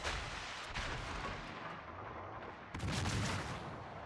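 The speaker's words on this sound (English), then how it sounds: "doing some big damage now with those AP shells" Warship main guns firing AP shells in World of Warships: deep, rolling booms with a sustained low rumble, a second heavy salvo landing partway through, steady and fairly loud throughout.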